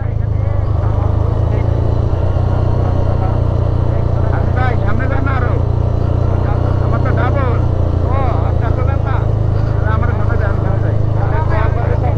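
A vehicle engine-braking down a steep mountain road between Keokradong, Boga Lake and Thanchi, a loud sustained low engine drone with a constant rumble, while people talk over it throughout.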